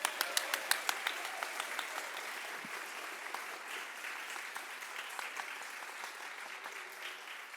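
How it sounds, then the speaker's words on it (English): Audience applause in a hall after a performance, steady clapping that starts with a few sharp claps and settles into an even, moderately distant patter lasting several seconds with no voices over it. "Give them another round of applause."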